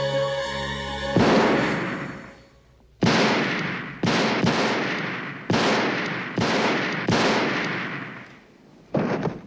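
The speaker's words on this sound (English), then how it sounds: "I never knew you could get 7 shots out of a gun that only holds 6 bullets." Gunshots from a revolver in a film scene from the 1981 horror movie Halloween II, six loud, sharp reports with ringing decay, irregularly spaced after a brief sustained musical tone at the start.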